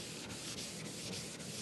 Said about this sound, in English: I'm feeling this board as I'm sanding